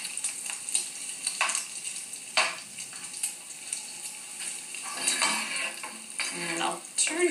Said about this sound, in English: And the bacon's almost crisp.